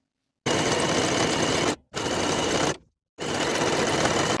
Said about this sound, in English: Sew the waistband in place with a 5/8 inch seam allowance.